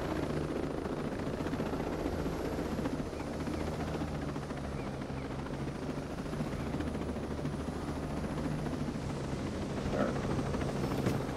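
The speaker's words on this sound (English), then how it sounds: "That dealing with whatever chopper we got going on up there." A helicopter in Ghost Recon Breakpoint hovers overhead, its rotor producing a steady, throbbing drone that stays constant and fairly loud throughout, with no talking.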